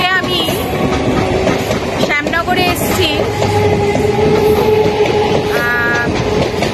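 A local train rattles past a closed level crossing at Shyamnagar, its loud, continuous rumble and clatter joined by squeals and a horn, while someone talks over it.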